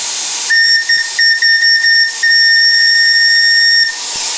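Steam vents from the boiler of a live-steam model boat as its pressure is let down, a loud hissing whistle with a steady high tone that sputters and breaks briefly at first, then holds strong before stopping.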